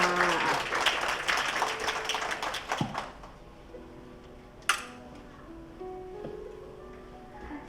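Guests applaud at an engagement ceremony in the Mandarin Hotel as the groom's parents are invited onstage. Brisk, fairly distant clapping fades out after about three seconds, followed by a sharp click and a quiet room with faint voices.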